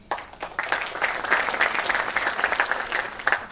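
Audience applause at a startup incubator event, dense continuous clapping from a crowd that swells and holds steady for several seconds.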